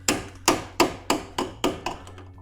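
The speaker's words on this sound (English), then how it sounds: "Take my hammer." Sharp hammer blows during front brake repair on a Ford Escort, six or seven strikes in steady rhythm, loud and close, each ringing briefly before fading, with no talking.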